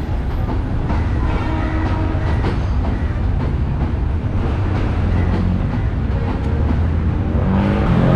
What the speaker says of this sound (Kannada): ನೋಡಿ ಟ್ರೈನ್